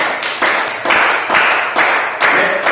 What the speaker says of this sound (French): Applaudissez pour vous pour ça.